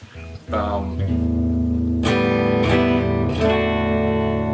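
A Gibson Les Paul Jr electric guitar with single-coil pickups, played clean: a sustained chord rings out, then three strummed chords follow at an even pace, loud and close.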